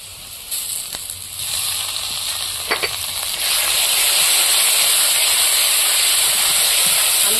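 Potatoes frying in a pan with a paste of ground cumin, coriander and ginger, giving a steady broadband hiss and sizzle that rises louder partway through, with a few faint clinks and no talking.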